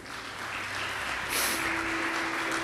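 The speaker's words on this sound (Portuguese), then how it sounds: "Vamos aplaudir ao Senhor por isso, gente?" A church congregation applauds during a Portuguese-language sermon, a dense, steady wash of many hands clapping for a few seconds, with a faint sustained tone underneath and no speech.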